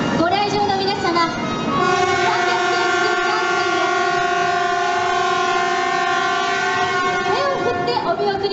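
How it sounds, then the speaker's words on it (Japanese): A Shinkansen 300 series Nozomi bullet train departs from Shin-Osaka on its final run to Hakata, with long sustained tonal horn or chime notes ringing over a steady rumble and station crowd noise, loud and close throughout. "300系新幹線最後の運転となります。"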